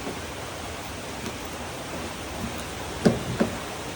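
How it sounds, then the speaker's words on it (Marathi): Heavy rain falls outdoors as a soft, even, wide hiss that holds steady throughout, with two brief dull knocks near the end. "जास्त पाऊस होत आहे"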